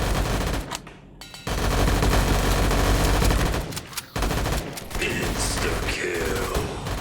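Video game gunfire in VRChat, loud sustained bursts of rapid automatic fire broken by short pauses, dense and close.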